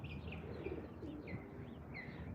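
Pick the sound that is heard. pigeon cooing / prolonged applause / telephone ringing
pigeon cooing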